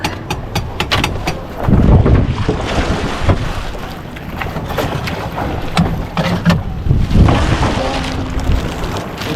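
A moored fishing boat's engine runs steadily up close, a heavy continuous rumble mixed with wind buffeting and water noise outdoors.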